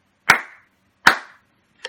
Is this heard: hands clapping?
yes